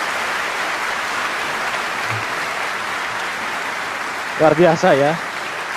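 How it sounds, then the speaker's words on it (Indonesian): Audience applause after a performance of the song Bangun Pemudi Pemuda, a steady broadband clapping wash throughout, with a brief spoken voice near the end. "Ya, tepuk tangan."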